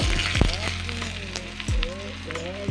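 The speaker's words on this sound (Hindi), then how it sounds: "और इनको कर देंगे अच्छे से फ्राई।" Pieces of arbi (colocasia) leaf fry with garlic in hot oil in a pan, a steady close sizzle with a few sharp pops and clatters as they go in.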